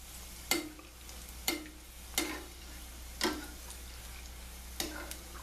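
Mozzarella sticks dropped into hot oil give a series of about five sharp, evenly spaced clicks or taps against a quiet, steady low hum, with no talking.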